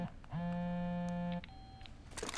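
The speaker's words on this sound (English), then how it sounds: "What alarm is this?" In Rainbow Six Siege, an electronic alarm beeps: a long steady tone lasting about a second, then a shorter higher beep, heard clearly with no talk.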